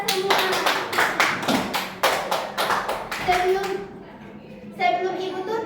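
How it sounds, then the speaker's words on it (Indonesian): Classroom applause from a group of schoolchildren, bursts of clapping rising and falling for several seconds, with children's voices mixed in and a brief lull before a final burst. "Beri aplaus untuk kita semua."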